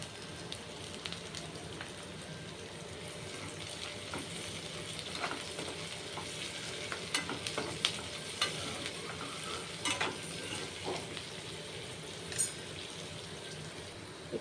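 Curry leaves crackle in hot oil in a pan while cooking egg fried rice: a steady close sizzle runs throughout, dotted with small pops and clicks of stirring, with no talking.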